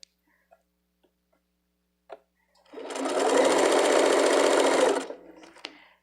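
Sewing machine stitching fabric on a small bag, a steady motor whir running about two seconds, loud and close, after a few faint clicks and taps, then stopping.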